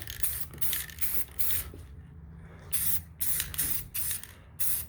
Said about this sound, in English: Just put a couple light coats on there. We're just going to lightly coat it right now.